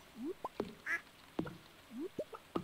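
Farm duck quacking in the Stardew Valley video game, a series of short, clear quacks in an irregular rhythm, close and distinct against a quiet background.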